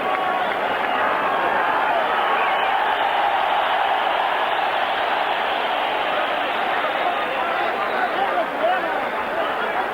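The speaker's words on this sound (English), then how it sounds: "hearing the roar of this big crowd in Mexico City" A big boxing crowd in Mexico City roars steadily and loudly throughout a Julio Cesar Chavez bout, forming a dense, continuous wash of cheering with no individual voices standing out.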